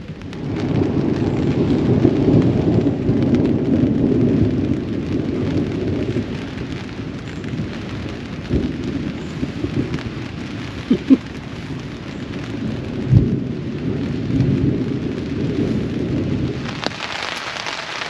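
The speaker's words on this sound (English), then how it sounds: "the storm is definitely moving away, and it is definitely raining now" Steady rain falls during a thunderstorm at a campsite, a continuous close hiss with low rumbles of thunder rolling underneath and a few sharper cracks, with no talking.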